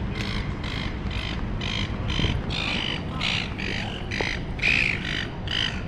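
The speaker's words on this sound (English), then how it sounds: "Oh, some seagulls." Seagulls in Melbourne city squawk loudly and repeatedly, close by, in a run of harsh calls over steady street noise.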